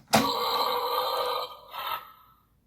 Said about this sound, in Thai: ก็จะเป็นเสียงเรอนะครับ แล้วก็มีเสียงแบบฟิลเหมือนไฟฟ้าช็อตนิดนึง